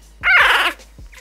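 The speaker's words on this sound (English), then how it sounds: "Big dog." A bully breed puppy lets out a single loud, close whimpering yelp that rises and falls over about half a second, followed by a faint short whine, with no talking.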